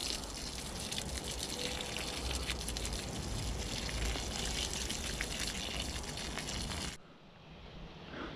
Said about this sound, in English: Now I give it a good water, and hopefully it produces a few more lemons than it did last year.